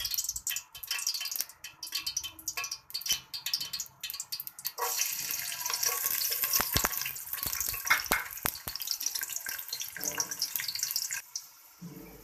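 Chopped peeled garlic cloves sizzle and crackle in hot oil in a pan, a dense, continuous frying hiss with bursts of popping that swells louder midway, no voices.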